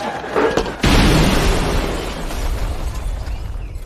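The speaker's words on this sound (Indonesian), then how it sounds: "setelah bom meledak" A bomb goes off in a film scene at a restaurant: a sudden loud blast lands about a second in and gives way to a sustained roaring rumble and debris noise that fills the rest.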